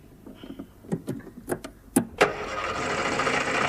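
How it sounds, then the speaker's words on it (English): A car engine is cranked with the ignition key: a run of uneven clicks and turnover bursts, then it fires and settles into a steady running rumble, fairly close. "just turn that key in the ignition there and pull that knob"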